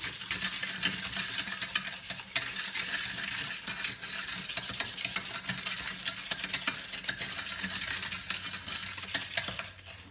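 Egg yolks and sugar being mixed together for a vanilla mousse, a continuous brisk whisking with rapid scraping and clicking against the bowl, steady and close.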